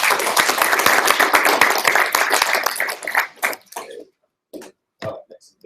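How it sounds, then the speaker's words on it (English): A live union meeting audience gives a short round of applause, a dense burst of clapping that fades after about three seconds into scattered claps, shuffling and a cough. "give Leslie a round of applause"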